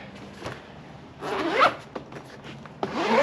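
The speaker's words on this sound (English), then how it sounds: "the tough zip." Heavy-duty zipper on an RTIC cooler being pulled open in a few rough bursts, with short rasping strokes building up and a final long drag, close and fairly loud, no voices.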